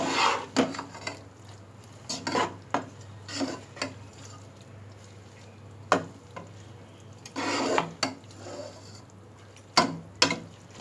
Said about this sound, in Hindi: अब हम पालक को अच्छी तरह मिक्स